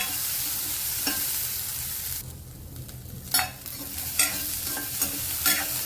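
Fried peas and carrots scraped and lifted out of a pan while making veg Kolhapuri, a steady hiss of oil with a few sharp utensil clacks and scrapes spaced across it, close and fairly loud, no talking.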